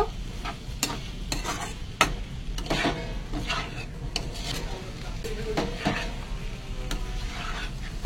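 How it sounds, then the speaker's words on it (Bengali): Spices stirred into oil in a pan, with repeated scraping and clinking of a utensil against metal over a low sizzle, strokes coming in an uneven rhythm close by, no talking. "মশলা দিয়ে একটু গুলিয়ে নিই।"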